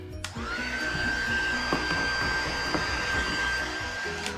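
A heat gun blows steadily on carbon fiber vinyl wrap being smoothed over a 2011 Subaru WRX/STI radio bezel. It starts with a click and runs as a close, constant airy roar with a high whine for about four seconds.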